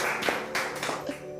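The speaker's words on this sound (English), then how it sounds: "Give yourself a clap." A few scattered hand claps sound close by in a studio, quick and uneven over about a second, with a faint voice in the background.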